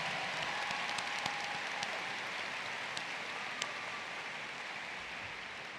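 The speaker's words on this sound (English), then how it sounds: "Please give our platform party a round of applause" An audience at a university convocation gives the platform party a steady round of applause, broad and even throughout, with a few sharper claps standing out and no voices.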